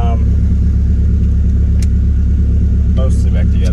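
A Nissan Hardbody truck engine idles steadily after a clutch replacement, a loud, continuous low rumble that lasts throughout, with brief faint higher noises near the end.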